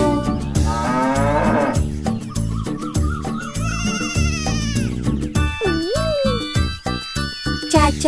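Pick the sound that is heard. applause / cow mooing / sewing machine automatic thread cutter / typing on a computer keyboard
cow mooing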